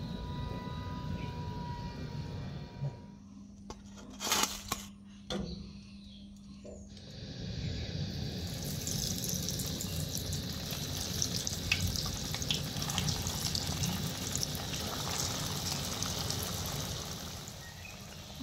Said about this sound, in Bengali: আর এইভাবে করে আমি সব কাটলেটগুলো ভেজে নেব।